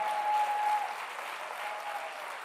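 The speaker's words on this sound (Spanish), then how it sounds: "Dale más fuerte ese aplauso." Applause from a church audience during a sermon, a dense steady wash of many hands clapping at moderate volume, with a faint sustained tone running under the first part.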